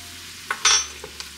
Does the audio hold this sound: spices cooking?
yes